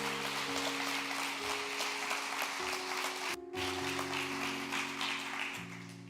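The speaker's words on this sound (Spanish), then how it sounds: "Dale un fuerte aplauso al Señor" A church congregation claps loudly in praise during a worship service, a dense steady patter of many hands lasting several seconds over sustained music.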